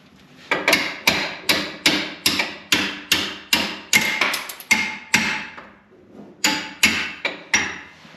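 Repeated sharp metallic strikes as a ratchet is used as a hammer on Jeep WJ rear long arm bolts, in a quick, fairly regular rhythm, about twenty blows with a brief pause near the end, loud and close.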